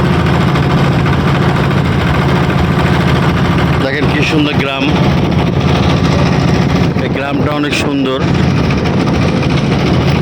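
Trawler boat engine chugging on a river, a loud, steady low diesel drone with constant vibration throughout, while someone talks close by over it.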